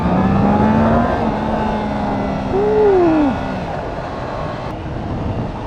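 2021 Triumph Trident 660 motorcycle engine under way, a steady close drone that rises in pitch, swells briefly as the revs climb, then drops back to a smoother hum; no talking.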